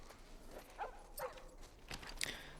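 Dogs barking in The Last of Us Part 1, a few short, faint barks spaced apart over quiet ambience, with light footsteps-like taps between them.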